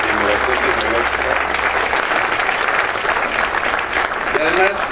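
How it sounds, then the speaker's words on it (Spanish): Award ceremony audience at an environmental cooperation program giving loud, sustained applause for a first-place technological innovation winner, dense clapping throughout with a voice briefly audible underneath. "Un fuerte aplauso a este primer lugar de innovación tecnológica."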